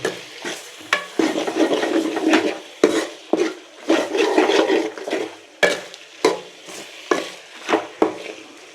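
A utensil stirs lung fry in a hot pan, with repeated scraping strokes in an uneven rhythm over a continuous sizzle, close and fairly loud, with no voices.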